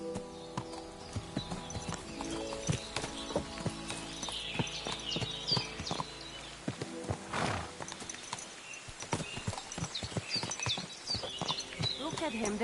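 Horse hooves clip-clop steadily as the animal is ridden, with close, rhythmic clattering and a brief whinny, under ongoing speech and other background sound.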